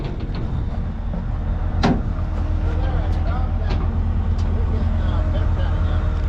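A John Deere swather engine running at 2600 RPM gives a steady, loud, low drone that fills the whole stretch, with faint voices and a brief rising whine partway through.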